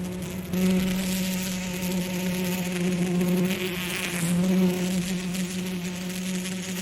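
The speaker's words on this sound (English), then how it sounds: "Oh, there's the buzzing." An insect buzzing effect drones steadily and loudly, with a low hum and shifting higher whine that swells and fades slightly over several seconds, heard alone without talk.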